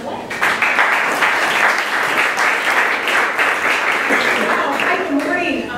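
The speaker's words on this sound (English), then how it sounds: "please give a warm round of applause for Jan with Paving the Way." Audience applause at a 1 Million Cups startup pitch event, a dense, sustained clapping that fills the room steadily for several seconds after an introduction.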